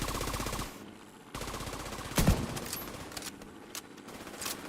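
Rapid automatic turret fire in a video game, sustained bursts layered with game effects and a sharp louder blast partway through, continuing steadily to the end.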